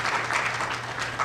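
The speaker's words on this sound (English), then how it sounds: "So let's applaud you." An audience at a community inspection event applauds, giving steady clapping that swells and settles over a brief stretch, fairly close and alone.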